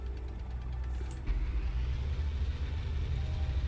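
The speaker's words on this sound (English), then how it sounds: "So here is a Centurion, very nice, and you can take it out for a spin." A Centurion tank's engine drives in the tank-design game Sprocket, a steady deep low rumble that grows louder and rougher a little past a second in, then holds on alone.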